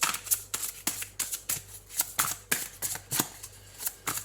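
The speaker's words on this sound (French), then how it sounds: "Je vais prendre 3 cartes." Tarot cards are handled and drawn one by one, producing a quick series of soft, close paper flicks and slides at an uneven rhythm, fairly quiet with no talking.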